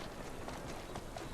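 Horse hooves clip-clop at a quick, steady pace as a carriage is pulled through Victorian London in Assassin's Creed Syndicate, close and continuous under a dense rumbling bed.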